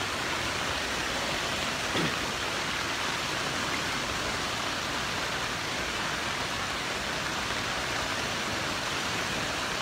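Constant loud rush of strong wind and rain during Typhoon Odette, a dense broadband roar with no clear breaks and no voices.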